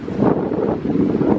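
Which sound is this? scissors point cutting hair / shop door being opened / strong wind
strong wind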